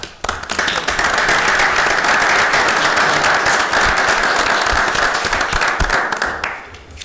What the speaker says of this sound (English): he deserves a round of applause for his efforts in our continuing comeback